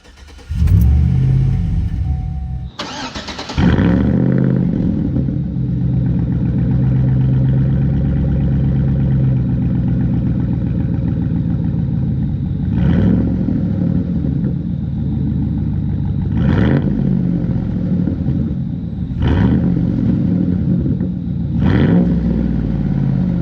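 A car running a Diablo tune on E85 flex fuel cranks briefly and catches, then settles into a loud, steady idle close by. It is broken by four short rev blips spaced a few seconds apart.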